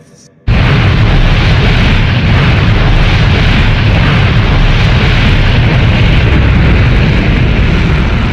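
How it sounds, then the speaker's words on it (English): A powder booster rocket blasts a MiG-19 jet fighter off a mobile launch site, erupting suddenly after a brief quiet into a loud, sustained roaring rumble that holds steady for several seconds. "The MiG-19, mounted on a mobile launch site, was virtually shot into the sky with the help of a powder booster."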